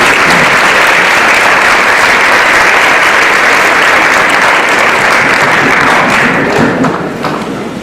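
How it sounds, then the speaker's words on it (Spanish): Loud, dense applause from a seminar audience at a theological institute in Mexico, a sustained roar of many hands clapping evenly for several seconds before tapering off slightly at the end. "Lo recibimos con un fuerte aplauso."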